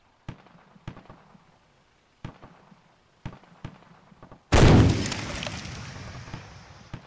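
Gunfire in the video game TOG Wasteland: a handful of spaced single shots followed by a loud, sustained explosive burst that slowly decays.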